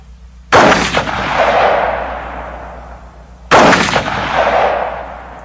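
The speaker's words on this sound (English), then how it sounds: "Now I'll fire one from a standard AR-15. Same ammunition." A single AR-15 rifle shot cracks out loud and close, its report echoing and decaying over about three seconds, then a second identical shot follows with the same long fading tail; no voices.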